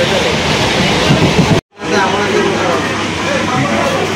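Loud, steady rumble and rattle inside a moving train's luggage van near Krishnanagar, with a brief sudden dropout partway through before the noise resumes.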